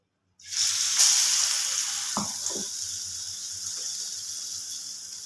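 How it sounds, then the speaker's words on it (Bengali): A batter-dipped bread slice drops into hot oil in a small frying pan and bursts into a loud, sudden sizzle that settles into a steady crackling fry, close and alone. "যে ব্যাটারটা গুলেছিলাম ওর মধ্যে পাউরুটিটাকে একটু চুবিয়ে নিলাম এবার আমি তেলে ছেড়ে দেবো"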